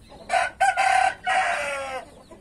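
In a poultry yard with Indian game chickens, a rooster and hens call loudly and close by in three strong, drawn-out bursts, the last one longest and trailing off.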